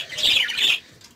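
A brief, loud burst of shrill budgerigar squawking in an aviary, two quick chattering calls close by, then it fades.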